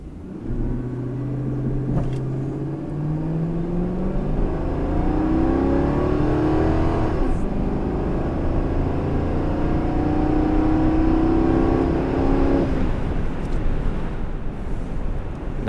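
An old Ford F-150 pickup in four-wheel drive accelerates hard from a standstill to 60 mph. The engine climbs steadily through several gears with rising roar and brief dips at the shifts, heard from inside under steady road noise.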